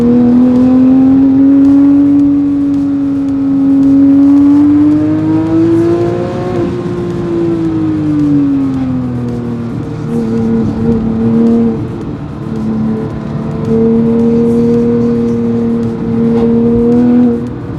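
A Porsche 997 GT3 with its 415-horsepower 3.6-litre Mezger flat-six revs up loudly, its pitch rising and falling through several pulls and gear changes, a strong close howl alone without talk.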